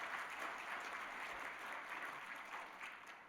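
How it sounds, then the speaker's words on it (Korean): A church congregation applauds newly appointed choir members during a worship service, a soft, distant, steady round of clapping that holds evenly for a few seconds. "큰 박수로 축하하겠습니다."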